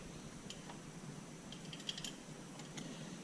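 A hand tool clicks one notch at a time while an oil catch can is fitted to a 2020 Dodge Challenger R/T Scat Pack 1320: faint, sparse, light ticks in small clusters over a steady background hiss, with no talking.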